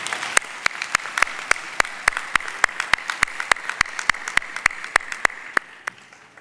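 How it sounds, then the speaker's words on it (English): Audience applause at a university graduation ceremony on a campus evening session, a steady stream of many hands clapping in a brisk, even rhythm that fades slightly at the end. "Let's give another round of applause."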